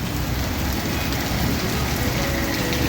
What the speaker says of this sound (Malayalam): അത്രയും വലിയ മഴ പെയ്യും